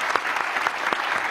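Audience applause in a television comedy show studio, a short burst of dense clapping at moderate loudness.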